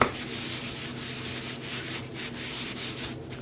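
A dry sock blank rubbed all over with gray and black Jacquard acid dyes gives a steady, soft scrubbing hiss that carries on without a break.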